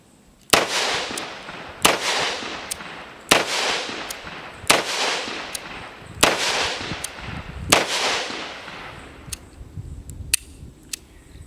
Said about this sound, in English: So we're going to shoot 6 rounds of 357 Magnum, just see how it functions